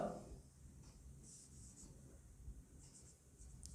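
A pen or marker scratches out a lecture topic on a writing surface during a calculus class, faint scribbling strokes in a few short bursts in a quiet room.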